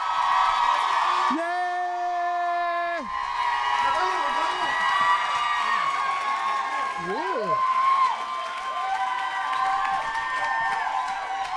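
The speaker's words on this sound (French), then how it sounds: "Commencez dès maintenant à applaudir" Audience at a cabaret comedy show applauding and cheering for an arriving guest, with whoops and crowd noise under a loud sustained musical fanfare, plus shouting voices.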